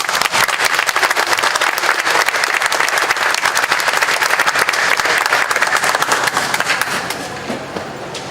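A large crowd at an outdoor Hmong community festival in Wausau applauds with dense, sustained clapping that stays loud for most of the stretch and then tapers off near the end.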